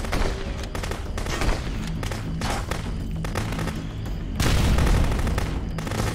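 Gunfire in the Contraband Police video game, heard as a dense, loud barrage of rapid shots and heavy booms that continues steadily and grows stronger toward the end.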